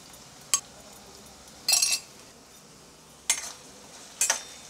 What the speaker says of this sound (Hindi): इसे एक बार मिक्स कर लेते हैं।